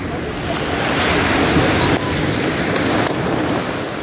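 Monsoon sea waves wash against Arnala jetty near Virar, a constant loud roar of surf mixed with gusty wind buffeting the microphone, with no voices.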